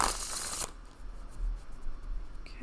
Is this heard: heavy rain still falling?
no